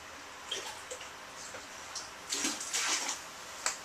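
Water pours into a mixing bucket for plaster, a soft splashing trickle that builds toward the end, close by and fairly quiet.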